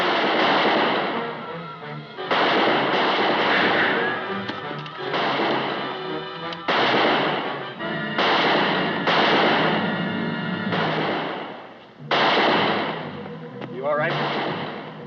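Gunfire in a TV western shootout, loud repeated bursts of heavy shots in rapid clusters separated by brief pauses, close and booming.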